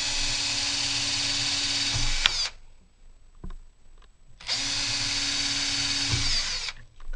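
Two bursts of a high-pitched electric drill with a 2mm bit drilling holes over a drilling board, each about two seconds long, separated by a short pause with faint knocks and handling noise.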